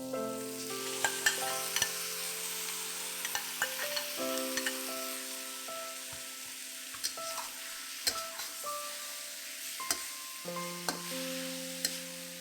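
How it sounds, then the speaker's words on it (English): Beef and onions stir-fried in sauce for Chinese pepper steak, a steady close sizzle with repeated scraping stirs and utensil clinks against the pan, no voices. "Stir fry everything together till the sauce thickens."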